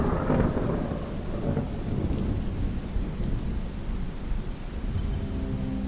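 Heavy wind and rain in a thunderstorm, with a dense, continuous roar of downpour and low rumbling thunder that stays loud and steady throughout, without any voices.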